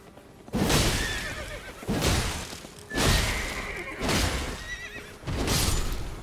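Horse steed in the video game Elden Ring galloping and snorting in bursts, five heavy thudding surges of hoofbeats and breath roughly a second apart, loud and close, with a whinny-like tone, no talk.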